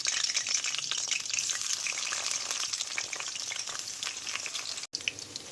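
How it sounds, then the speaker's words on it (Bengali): Pointed gourd (potol) pieces fry in hot mustard oil in a wok, giving a loud, steady, crackling sizzle that continues without a break and with no talking. "আর পটলগুলো আগে ভেজে নেবো।"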